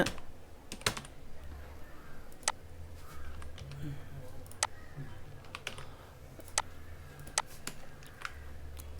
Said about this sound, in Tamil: இங்கிலீஷில் போட்டு திரும்ப தமிழ் டைப் பண்ணிங்க